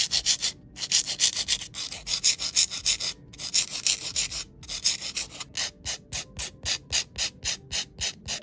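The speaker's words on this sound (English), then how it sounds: "I'm just kind of going to file the sides of the nails and also make sure that the tip of the nail is straight" Acrylic nail tips being filed along their sides and tips, a close, steady rasping in quick back-and-forth strokes, with a rapid burst of short strokes near the end and no talking.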